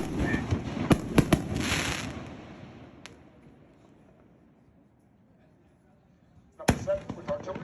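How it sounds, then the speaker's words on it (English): A Sky Bacon 5-inch Hellcat Cans artillery shell fires with sharp crackling reports, fading into a long hush before a fresh burst of loud pops and bangs. Voices are faintly present. "Number 6, we're going to have an artillery shell from the Sky Bacon line."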